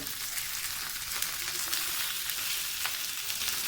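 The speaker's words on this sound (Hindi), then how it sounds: "हटाने के बाद इसको मैं अच्छे से हल्का सा फ्राई करूँगा।" Stuffed karela (bitter gourd) filled with qeema fries in a pan, giving a steady, close hiss of sizzling oil that carries on evenly with small crackles throughout.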